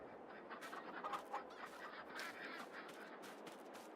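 A duck quacks a few times at moderate distance in the farm game Farming Simulator 22, over soft outdoor ambience with no talking.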